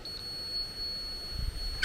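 A laser level receiver gives a steady solid beep while checking beam height at a rim joist and oak beam build, a thin continuous tone faintly under background noise.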